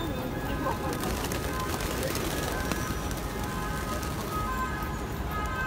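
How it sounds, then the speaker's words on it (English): A large flock of pigeons in Barcelona coos and flutters in a dense, continuous mass of sound that carries steadily under the noise of the surrounding city. "Have you ever seen so many pigeons"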